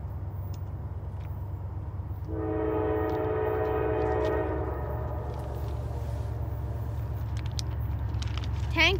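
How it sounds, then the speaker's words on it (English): A tanker train carrying crude oil rumbles steadily past while its horn sounds one long, loud blast, fading to continued rolling rail noise. "Tanker train."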